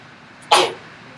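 A single sharp sneeze bursts out in a quiet room during a precalculus lesson, short and fairly close, followed by low background hiss.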